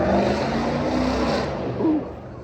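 The loud exhaust of a vehicle passing close by on the street roars with a rising and falling engine tone, swelling near the end before it quickly fades away.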